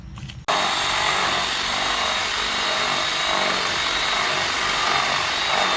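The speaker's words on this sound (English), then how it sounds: "We'll get a hole drilled." A power drill whines loudly and continuously after a brief quiet start, grinding steadily through house siding.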